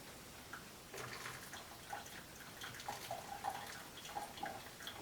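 Faint trickling and dripping water being poured slowly into a one-cup coffee maker, with small splashes and gurgles close by.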